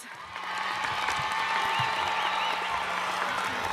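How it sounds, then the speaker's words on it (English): A large outdoor crowd at a high school commencement applauds the graduates' families, with a broad, sustained wash of clapping that swells in and holds steady. "give a big round of applause to your families"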